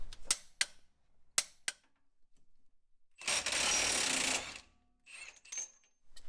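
A Milwaukee M18 impact wrench works a driveshaft flange nut on a Jeep JL Wrangler's Adam's 1350 Extreme Duty driveshaft: a few sharp tool clicks, then one loud, hammering burst of about a second, followed by softer metallic clatter.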